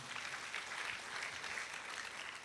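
A church congregation at a Pentecost service applauding together, a dense, even wash of many hands clapping that stays steady throughout, fairly faint and distant, with no one speaking over it.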